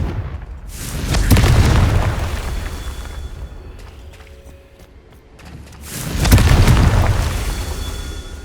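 Two heavy, booming fire-spell blasts from Confringo in Hogwarts Legacy, each a loud explosion with a rolling tail, separated by a few seconds of quieter game ambience.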